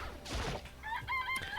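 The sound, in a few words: chicken clucking in a chicken coop in a video game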